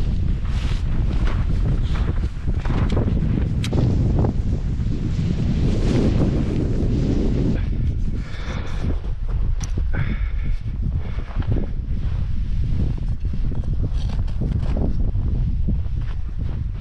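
Strong, constant storm wind on a winter mountain roars and buffets the microphone beside a pitched tent, a heavy blustery rumble with gusts and flapping throughout, no talking.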